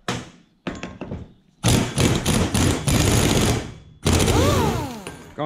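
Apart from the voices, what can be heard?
rattle gun (impact wrench) running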